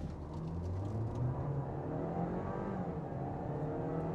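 A Volkswagen T-Roc accelerates hard from inside the cabin after a brake-boost launch to spool the turbo, giving a steady climbing engine drone with a rising tone and no talking.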